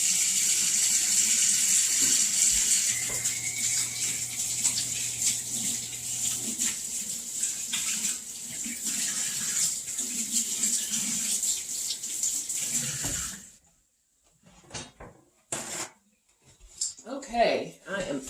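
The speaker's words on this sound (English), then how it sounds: "Let me wash up my sticky hands" Tap water runs steadily into a sink while sticky hands are washed, a continuous close hiss for most of the time, then the flow stops and a few scattered clatters and splashes follow.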